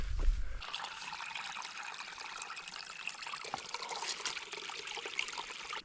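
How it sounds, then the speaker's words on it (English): A mountain stream in the White Mountains trickles and burbles steadily, a close, continuous wash of running water with no voices, after a brief low thump at the start. "So that stream right there is a nice sight to see"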